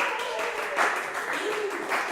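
A concert audience applauds in a continuous, dense patter of many hands clapping, steady throughout with slight swells.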